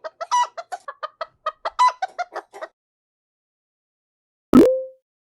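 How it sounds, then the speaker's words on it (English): A cartoon chicken clucks in a quick run of about a dozen short, bright calls over nearly three seconds, followed by silence and then a single louder burst near the end. "Chicken."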